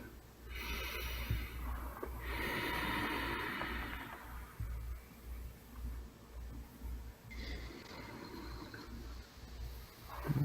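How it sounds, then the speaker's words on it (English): Several slow, deep cleansing breaths during a guided relaxation: long, soft airy inhales and exhales, close and quiet, separated by calm pauses with faint room hum. "Perhaps a couple of other deep cleansing breaths."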